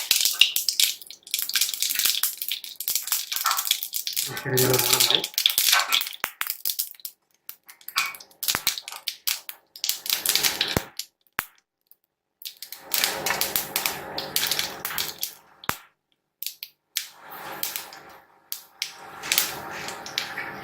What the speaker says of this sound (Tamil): இந்த கடுகு உங்களுக்கு நல்லா வந்து இதாகும், ஃப்ரை ஆகும்